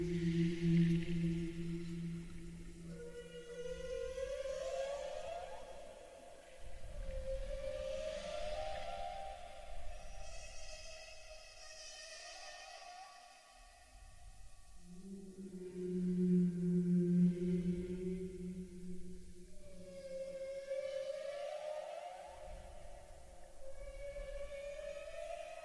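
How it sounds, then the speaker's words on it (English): Complex whale song, long sweeping tonal calls that rise and glide in repeated phrases with rich harmonics, moderately loud and alone without talk. "listen to some complex whale song and appreciate it"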